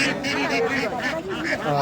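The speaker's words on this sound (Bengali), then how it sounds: "এখানে হাঁস এবং এদিকে শুধু হাঁসই থাকে" Ducks quack and honk in a busy cluster at a rural village market in Brahmanbaria, with voices talking nearby.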